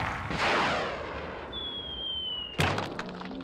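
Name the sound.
cartoon cannon firing a man out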